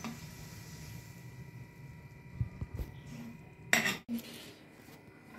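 Boiled bathua greens are moved onto a plate, giving a few utensil scrapes and knocks against cookware, then a louder burst of clinking dishes, quiet and close.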